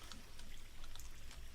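Water runs down a water slide in The Forest, making a soft, faint trickling and pouring with small splashy bubbles that stays steady throughout.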